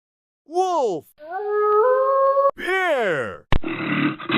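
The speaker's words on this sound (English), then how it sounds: "Wolf." A wolf howls in several rising and falling wavering calls that alternate with steadier held tones, ending in a burst of rough noise. The sound is close and clear.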